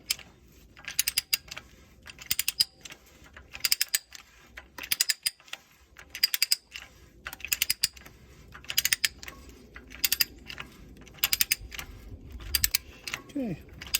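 A Harbor Freight pipe threader cuts threads onto pipe, giving rhythmic bursts of clicking ratchet and grinding metal in regular strokes, close and fairly loud, with a low background hum.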